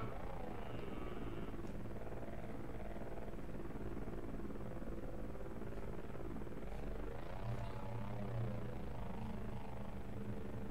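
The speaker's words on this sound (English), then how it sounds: "there's a drone that comes in" A drone flies in within the video game Voices of the Void, giving off a steady, droning rotor hum with a rising and falling pitch that holds for the whole stretch, continuous and fairly close.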